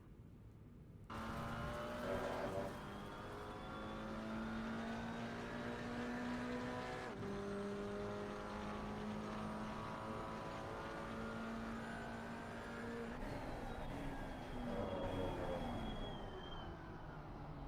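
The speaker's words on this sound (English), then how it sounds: "That's an example of the engine braking when you downshift as early as you can." A GT4 race car in Assetto Corsa Competizione on the Nürburgring, its engine braking through early downshifts, with the pitch stepping and dropping repeatedly over steady tyre and road noise.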